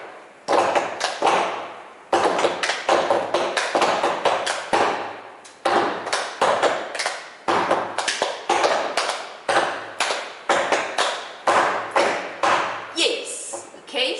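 Rhythmic hand clapping and tapping in a coordination game kept to a steady beat, sharp repeated claps in quick regular patterns with short pauses between rounds, close and loud, with no talking.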